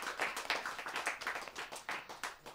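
Scattered clapping from a small audience at a Hindi poetry and humour gathering, welcoming a guest; individual hand claps stand out in an uneven, moderately paced rhythm, fairly near and not very loud.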